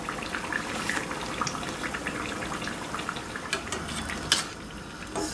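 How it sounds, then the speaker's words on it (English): Beef and pork spring rolls crackle and sizzle in hot oil, a steady fizzing bed of tiny pops with a few sharper spits, close and moderately quiet with no talking. "you're really just cooking the spring rolls, you know, getting them nice and crispy and brown"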